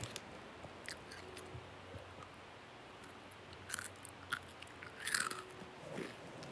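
Close biting and chewing of aloe vera, with sparse crisp crunches and wet snaps scattered over quiet stretches, growing busier toward the end.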